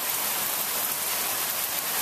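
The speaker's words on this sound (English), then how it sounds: "As you can see, it pours," Heavy July rain pours down in Tennessee, a dense, even hiss of falling water that holds steady and close for the whole short stretch, with no other sounds.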